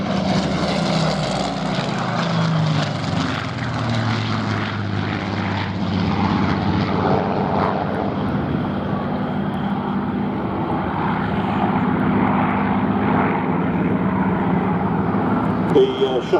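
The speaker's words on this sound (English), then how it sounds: "The Seafire powered by a Rolls-Royce Griffon engine" A Supermarine Seafire with a Rolls-Royce Griffon piston engine drones steadily overhead at an air display, its propeller roar sustained throughout, with a voice talking over it.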